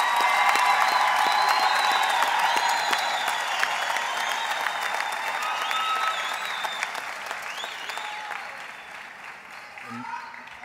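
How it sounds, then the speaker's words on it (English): Sustained applause from a large audience for graduates at a university theology faculty graduation ceremony, dense steady clapping that slowly thins toward the end with a few scattered voices. "Let's give the graduates a big round of applause."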